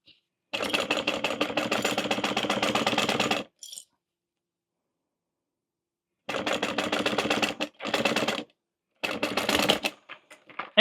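A sewing machine stitches a fabric waist pack with a zipper, running in rapid, even mechanical bursts: one long run, then several shorter runs separated by silent pauses, close and clear with no talking.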